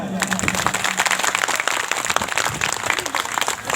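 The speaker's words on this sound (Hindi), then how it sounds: "तो जोर से तालियां बजाए।" Dense applause from an audience at an outdoor Sarna prayer gathering in Raghunathpur, a steady crackle of many hands that holds loud and continuous throughout, with a faint hum underneath.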